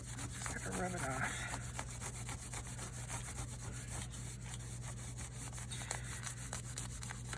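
Steady scrubbing and rubbing as glue is worked off a Christmas folio paper craft project, a continuous close friction sound with rhythmic strokes, no talking.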